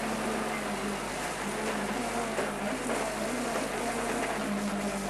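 A Mazda rally car on narrow French roads during a 1997 rally, its engine droning loud and steady throughout without clear gear-change breaks.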